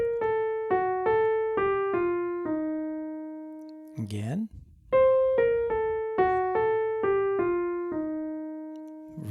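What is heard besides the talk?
F dominant 7 scale line with enclosure around the 9th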